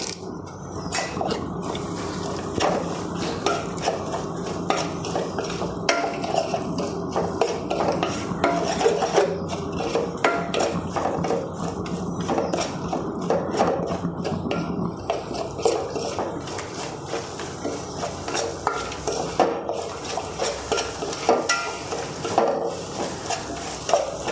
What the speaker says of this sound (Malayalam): ഇപ്പോൾ ഒരു തക്കാളി എടുത്തിരിക്കുന്നത് കൂടി ഇട്ട് കൊടുക്കാം പത്ത് തണ്ട് കറിവേപ്പില ഇട്ട് കൊടുക്കാം